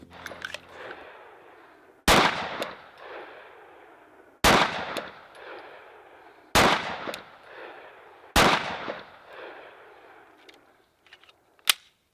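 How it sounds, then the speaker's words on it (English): At an outdoor shooting range, a Glock pistol and an AR-15 rifle fire four loud, sharp gunshots a couple of seconds apart, each with a ringing decay, followed by a final softer crack. "then we'll start shooting"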